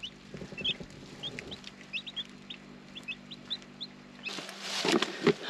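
Newly hatched chicks peep in short, high, repeated chirps, with a hen clucking low nearby and a scuffling rustle near the end.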